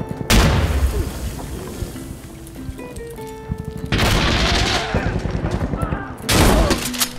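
Shotgun blasts in the shooter game Insurgency Sandstorm, several loud booming shots in quick bursts with rattling gunfire and game effects between them, close and dominant.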